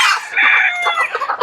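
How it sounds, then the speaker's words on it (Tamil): Mother hens and roosters in a poultry shed floored with sawdust on a farm, heard close: a rooster's crowing call rising over busy, overlapping clucks from the flock, with no talking. "இந்த தாய்க்கோழிலாம் இங்கே இருக்காங்க."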